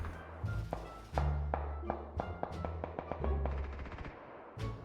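Gunfire in PUBG rings out as a rapid run of sharp shots with heavy low thumps, clustered bursts and pauses, loud and close, with no talking.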